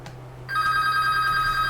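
An in-game telephone in Farming Simulator 22 starts ringing abruptly after a moment of quiet, a loud steady electronic bell tone with sharp pulses, alone without talk.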